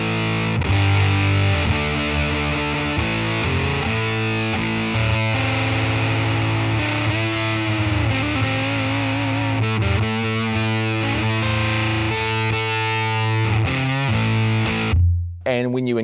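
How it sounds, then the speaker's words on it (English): A Red Witch Euphorium Fuzz, a silicon fuzz guitar pedal running on a single circuit, gives a loud, saturated distorted electric guitar tone as sustained chords and notes ring steadily for about fifteen seconds before cutting off. "The Euphorium Fuzz is a silicon fuzz."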